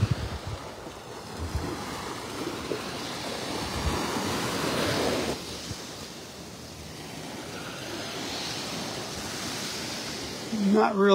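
Ocean waves washing onto a beach in North Naples, Florida on a cloudy morning, a steady rushing surf with rising and falling swells, mixed with wind buffeting the microphone.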